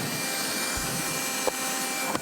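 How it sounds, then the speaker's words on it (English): A small handheld vacuum cleaner runs steadily inside a van, its motor whine constant and fairly close, with a couple of brief knocks partway through and no talking. "she's getting some vacuuming done with her new little vacuum there"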